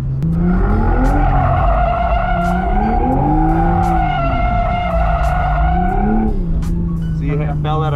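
A Toyota GR Supra drifts with loud, sustained engine revving and long tire squeal that rises and falls in pitch, continuous and close, with a brief sharper squeal near the end and faint talk underneath.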